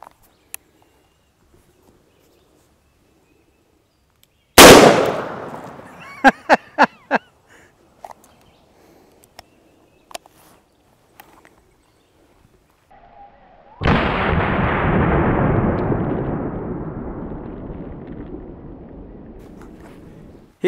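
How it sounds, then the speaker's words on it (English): A .44 Magnum Smith & Wesson 627-7 Hunter revolver fires at a plate carrier insert, giving one sharp, loud blast followed by a short run of echoing cracks, then quiet, and later a long rushing noise that fades out. "this time we're shooting this out of the 44 Magnum Smith & Wesson 627-7 Hunter"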